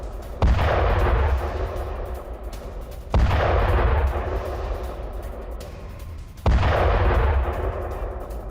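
Three heavy artillery blasts in Ukrainian attack footage, each a loud sudden boom followed by a long rumbling decay, spaced roughly three seconds apart and not far off.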